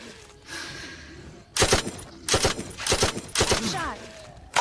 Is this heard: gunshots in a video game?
yes